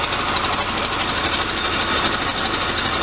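The engine of a 1973 VW Super Beetle idles close by, a loud, steady, rapid chugging rumble with an even rhythm that carries on unbroken.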